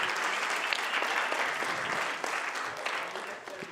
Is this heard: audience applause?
yes